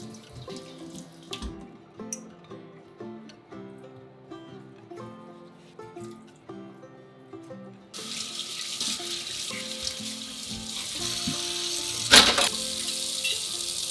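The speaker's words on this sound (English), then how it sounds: "So what I like to do is just rinse them all off one at a time." Running tap water splashes into a sink while glass canning jars are rinsed one at a time, with clinks and knocks of glass at first, then a louder steady gush of water near the close.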